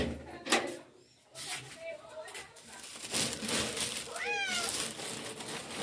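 A hungry cat meows near a person, with repeated plaintive rising-and-falling meows over household background noise and someone talking throughout.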